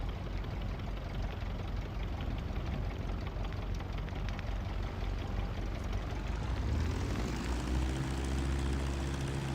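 An MD-11 airliner comes in to land in Microsoft Flight Simulator 2024, its engines a constant loud roar whose tone shifts and settles partway through.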